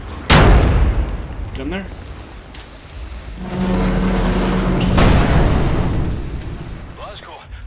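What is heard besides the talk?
cannons firing in Wolfenstein The New Order video game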